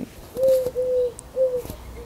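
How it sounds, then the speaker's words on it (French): A turtle dove coos nearby in soft, low, hollow notes, three drawn-out calls in a short sequence over a quiet indoor background. "une tourterelle juste là."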